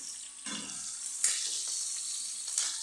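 Homemade luncheon meat frying in oil, a bright steady sizzle close by with a couple of sharper crackling bursts, heard alone without talk.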